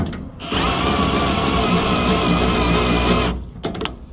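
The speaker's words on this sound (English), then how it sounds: "If I change this to the drill setting, that disables the clutch" A NighCo cordless drill on the drill setting, clutch disabled, spins up and runs steadily at full speed for about three seconds, loud and close, then winds down and stops.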